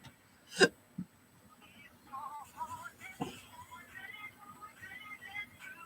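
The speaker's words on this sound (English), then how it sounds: "Hiccups." A single sharp hiccup close by, followed by a second softer one, then quiet room sounds with faint background noise, recorded beside a Brother embroidery machine.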